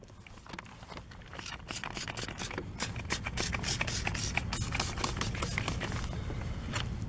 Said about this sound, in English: I'm just going to spray over these surfaces.